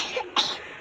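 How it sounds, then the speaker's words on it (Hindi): A single short, harsh cough close to the listener, a sudden breathy burst that trails off quickly. "बहुत खांसी है।"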